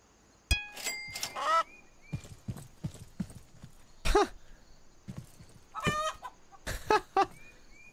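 A chicken in the back of a truck in Estate Agent Simulator video game clucks and squawks in short bursts among sharp knocks and thumps, close and fairly loud, without talk.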